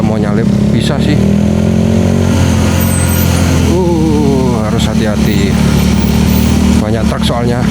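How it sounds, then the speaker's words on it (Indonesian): Heavy commercial and mining trucks pass along a forest road, a loud continuous low engine drone with rising and falling revving, under steady talk throughout. "Mayoritas yang lewat di sini banyak truknya ya, truk-truk niaga, truk-truk tambang juga."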